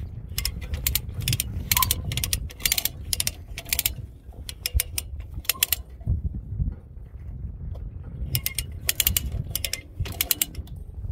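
Come-along ratchet cranked to tighten a run of barbed wire toward a fence post outdoors, giving repeated close bursts of sharp metallic clicking in uneven groups, with short pauses between strokes.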